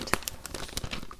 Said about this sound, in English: let's do a little bit of page turning.